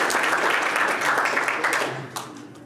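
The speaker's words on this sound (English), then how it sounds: "There's an applause for some pretty cool stuff." An audience at a Colorado opioid abatement conference gives a burst of lively applause, loud and dense at first, then thinning and fading out toward the end.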